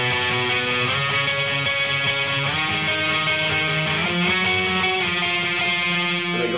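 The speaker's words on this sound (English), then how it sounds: "And then the chorus are octave chords." An electric guitar plays ringing octave chords from the chorus of a song, changing about once a second in a steady, sustained pattern with no talking.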